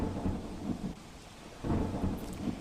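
Thunder rumbles low and heavy over steady pouring rain during a storm in Dwarka, a continuous roar that swells twice, with no voices.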